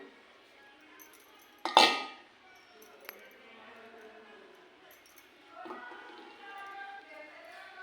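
Pieces of bath soap drop into an oiled cooking pot with one sharp metallic clang, followed by faint rattling and low background noise.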